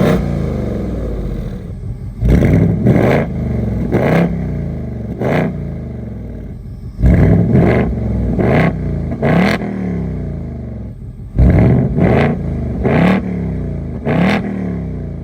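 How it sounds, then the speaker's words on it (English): The active exhaust of a 2024 Ford Mustang GT rumbles at idle and surges in repeated sharp revs, loud and close, with clattering crackle between blips. "I'm going to show you guys the active exhaust."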